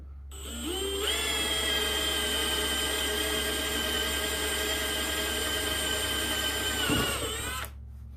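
A power drill spins up and whines steadily for about seven seconds while boring an 1/8 hole through a bushcraft knife handle, loud and close, then winds down.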